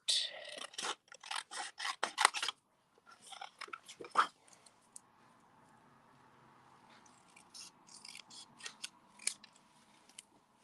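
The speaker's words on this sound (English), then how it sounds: "I'm just going to cut it out" Scissors snip around a stamped paper image, giving close, crisp cuts in quick bursts that thin out into softer, scattered snips and paper rustling.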